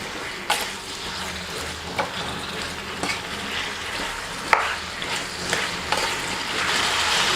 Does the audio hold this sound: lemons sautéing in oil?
yes